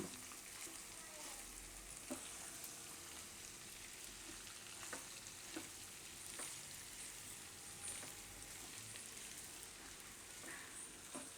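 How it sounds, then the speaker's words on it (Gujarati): Sago pearls with raw banana for khichdi cook in a pan, giving a soft, steady sizzle with occasional faint clinks and scrapes from stirring, close and quiet with no voices. "થોડીક વાર આને પકાવી લઉં સાબુદાણાને. વચ્ચે વચ્ચે હલાવતા રહું આ રીતે."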